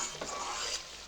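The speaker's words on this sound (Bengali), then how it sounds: "গ্যাসের ফ্লেম লোতে রেখে মশলা কষিয়ে নেব।" Spices fry in mustard oil over a low flame, giving a brief, steady sizzle with a faint stir, close and unbroken by speech.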